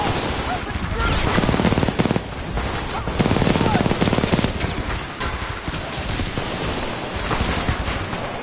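Sustained automatic weapon fire from the video game Titanfall 2, loud and dense bursts with brief lulls, rattling continuously under shouted voices over the full stretch.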